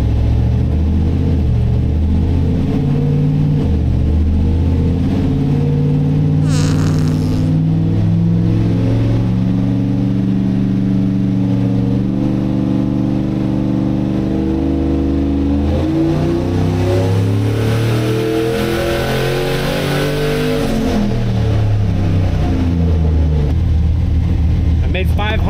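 Car engine on a tuning run with newly swapped fuel injectors and a sticky throttle, loud and close, rising and falling through several revs before a long climb to high revs and a sharp let-off.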